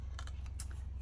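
Scissors snip through craft material in a few quick, close cuts, each a short crisp crunch, over a low background hum.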